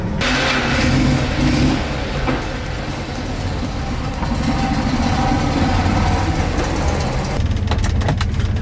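A small motor vehicle engine runs steadily after a key start and lever pull, a continuous mid-pitched hum with slight revving swells, close to the microphone and without speech.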